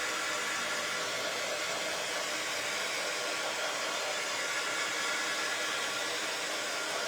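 A hair dryer runs continuously at a steady loud hiss, drying a painted craft kit for a standing bunny, with no voices.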